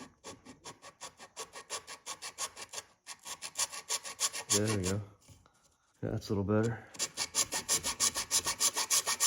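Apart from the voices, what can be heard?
filing a groove in a wooden bow with a chainsaw file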